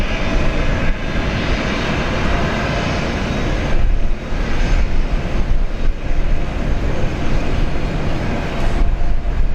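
A Scimitar-retrofitted airliner departing Brisbane's runway 19 left roars steadily and loudly throughout, a broad, continuous jet rumble close by with no voices.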